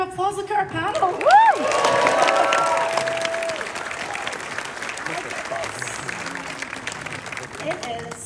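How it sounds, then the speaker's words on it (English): A fan expo panel audience breaks into applause with cheers and whoops, loud whistles and shouts at the start giving way to steady clapping that tapers off as voices return. "Another round of applause."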